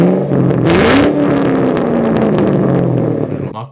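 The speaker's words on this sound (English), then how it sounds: "Mach 1 stock exhaust sounds really good." A Ford Mustang Mach 1 with a cammed engine and stock exhaust revs up loudly nearby, the exhaust note rising in pitch then holding a deep rumble before cutting off abruptly.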